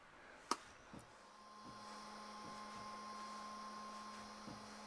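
An HO scale smoke machine on a steampunk train diorama runs with a steady, soft hiss after a sharp click and a brief knock, while a faint thin whine holds above it.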